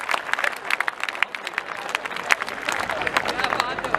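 An audience at a Hindi comedy poetry show claps steadily for a few seconds, a dense patter of many hands with crowd murmur beneath, fairly close and moderately loud.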